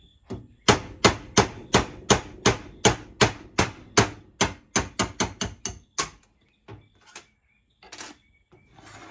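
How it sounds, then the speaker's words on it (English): A punch is tapped with a hammer to drive a pin out of a Savage .22 LR single-shot rifle barrel, a quick run of about twenty sharp metallic taps, then a few scattered lighter knocks, close and clear. "we're going to take the punch and we're going to go from the left side of the barrel and push it out on the right side"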